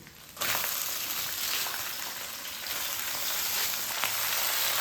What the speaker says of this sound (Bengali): এইখানে যে আদা বেটে রেখেছি এইটা আমি দিয়ে দিচ্ছি। এই বাঁধাকপিগুলো দিয়ে দিচ্ছি।